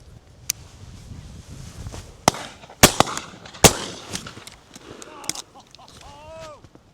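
Outdoors at a driven pheasant shoot, several sharp shotgun blasts crack out over faint background noise, two loud reports close together near the middle and fainter distant shots around them.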